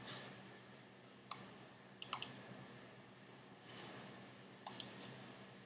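Sparse, sharp computer mouse clicks while installing Minecraft mods, a few single and double clicks spread across a quiet room background with no talking.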